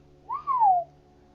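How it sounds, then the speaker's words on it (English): One clear whistle from a person, a single note that slides upward briefly and then glides downward, close and isolated against a quiet background with a faint hum. "Stoic looked around and whistled."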